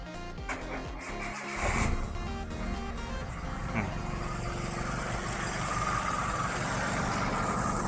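A Suzuki Forsa car engine cranks and catches, then settles into a steady, close idle that runs continuously, with a person talking over it.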